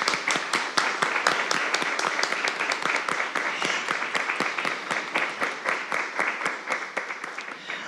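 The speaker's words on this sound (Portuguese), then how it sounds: "Vamos aplaudir, amigos?" An audience at a closed spiritualist lecture applauds, sustained clapping with distinct individual claps standing out in a fairly even rhythm that tapers toward the end.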